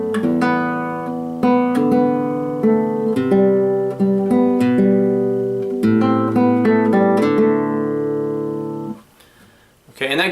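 A solo guitar plays a melody and bass line together, plucked notes ringing in a steady, clear sequence, with the playing stopping shortly before the end.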